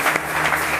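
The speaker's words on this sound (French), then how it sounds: "Alors vous allez applaudir pour vous-même." A church congregation applauds in a short, dense burst of many hands clapping at once, loud and even throughout with no talk over it.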